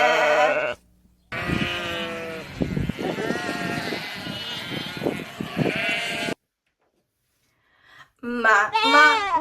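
A little white sheep bleats in a farm-themed children's song, the bleats mixed with music and a sung voice that imitates the sheep; a brief pause falls midway, then more bleating follows.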